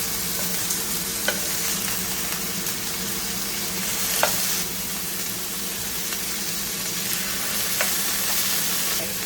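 Ground lamb burgers sizzle steadily in a hot pan, a continuous close crackle of frying with a few sharper pops and no talking.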